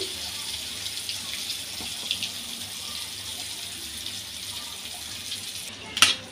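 Hilsa fish roe frying in a pan gives a steady, fairly quiet hiss and sizzle with no break, and a brief sharper clatter near the end.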